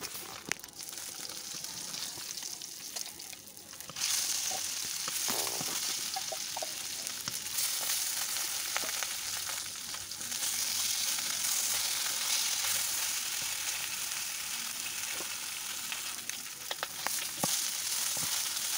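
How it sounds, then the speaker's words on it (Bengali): Pieces of katla fish fry in hot oil with a loud, continuous sizzle that swells after a quieter start, broken by scraping stir sounds and small pops, with no talking. "বেশ লাল লাল করে কিন্তু মাছগুলো আমার ভাজা হয়ে গেছে"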